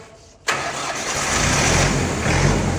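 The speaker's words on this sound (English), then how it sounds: "It barely runs. Sounds like it's got marbles in the crankcase." A tractor engine turns over and catches at once, then runs loud and rough with a steady low rumble and uneven knocking.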